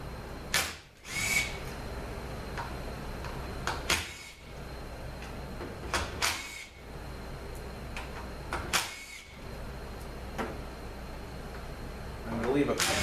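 Bolts being backed out of a ZF6HP26 automatic transmission valve body with a power tool, several short whirring bursts spaced a few seconds apart, close and moderately loud, with someone talking between them.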